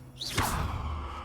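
A swift magical whoosh sweeps upward as the Levioso levitation spell is cast in the video game Hogwarts Legacy, one short airy swish with a soft thud beneath it, standing alone without talk.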